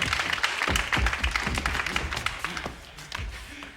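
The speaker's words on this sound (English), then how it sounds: "one hand clapping against the other makes a very nice sound for Sizzler" Nightclub audience at a lounge-singer comedy act claps in a loose, uneven burst, with distinct hand claps standing out over a murmur and fading near the end.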